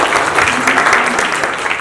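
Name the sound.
applause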